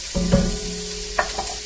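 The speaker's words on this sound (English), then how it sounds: "we're just going to saute the onion until it gets translucent" Chopped onion sauteing in a hot pot, a soft sizzle with a couple of brief scraping stirs and a faint hum underneath, short and close.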